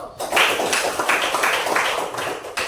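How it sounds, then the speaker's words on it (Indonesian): Classroom applause for group 1 during a teacher performance exam session, a few seconds of dense, fairly loud clapping from a small group, close by. "Beri aplaus untuk kelompok 1"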